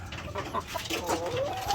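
A rooster gives a short run of soft clucks, close by, with faint background noise.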